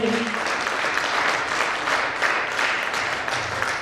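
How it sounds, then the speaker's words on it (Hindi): Enthusiastic audience applause at a first-anniversary event for a business, thick, continuous clapping from many people that fills the whole moment without letup. "इनके सम्मान में एक बार जोरदार ताली बजानी होनी चाहिए।"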